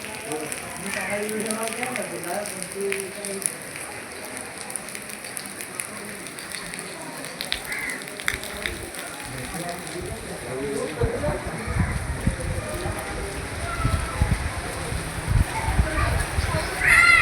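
Heavy rain pours steadily in a steady broadband hiss at a crowded goddess temple, with people talking over it and a voice now and then.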